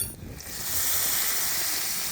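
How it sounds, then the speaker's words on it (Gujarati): Tempering of cumin, curry leaves and red chilli in hot oil is poured over a stuffed green-chilli kadhi. After a brief quiet moment, a steady, bright sizzling hiss swells and holds. "આપણો ઉપરથી વઘાર થઈ ગયો છે"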